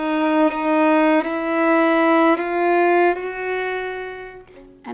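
A Bach piece with a rising bass line, played two notes at a time: sustained, even tones that step to a new pitch several times, with no voices.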